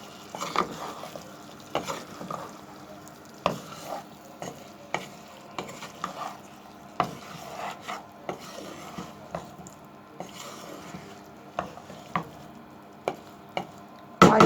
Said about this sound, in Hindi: येलो शिमला मिर्च, इसको मैं मिक्स करूँगी।